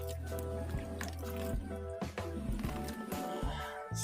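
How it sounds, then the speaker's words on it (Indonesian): Water is poured over the planting medium for macadamia cuttings, trickling and splashing softly in short bursts over steady background music. "setelah seperti ini kita siram, cukup biar lembab saja"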